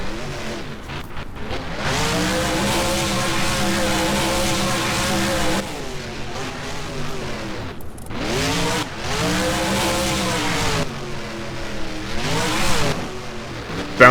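Monster truck in BeamNG freestyle in an Arlington arena, slammed down hard on a dirt mound, breaking its rear left wheel before rolling over. Its engine roars loudly and continuously, pitch surging and dipping through repeated revs, with a sharp knock at the very end.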